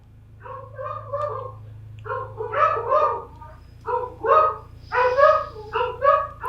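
Pet dogs at home bark in repeated loud, close bursts, with short pauses between volleys and a low steady hum underneath.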